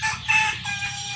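Four-day-old Sonali chicks in a crowded brooder of about 1100 birds, giving a dense, continuous chorus of shrill peeping and cheeping, fairly close and steady throughout.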